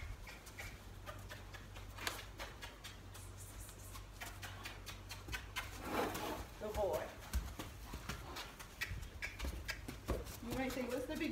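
A gaited horse walks during winter training exercises, its hooves clopping in an uneven, close rhythm while someone speaks quietly over the steps.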